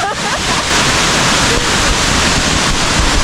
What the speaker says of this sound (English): One of the largest waterfalls.